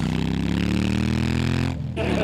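A motorcycle passes close by with a loud, steady engine drone that holds at an even pitch, then cuts out briefly near the end before returning.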